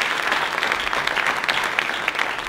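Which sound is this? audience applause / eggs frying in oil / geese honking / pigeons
audience applause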